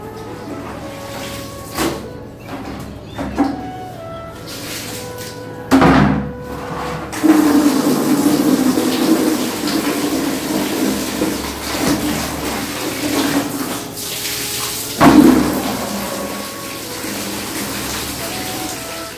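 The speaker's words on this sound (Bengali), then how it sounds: "জামা কাপড়গুলো আমাকে ধুয়ে নিতে হবে" Clothes being washed by hand under running water, a steady gushing stream with splashes and occasional louder surges and sloshing, close and continuous, with no voices.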